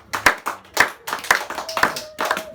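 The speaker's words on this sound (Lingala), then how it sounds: "Est-ce qu'on peut acclamer un peu pour Seigneur?" A church congregation clapping hands together in a steady, regular rhythm, about two claps per second, loud and close, with faint voices beneath.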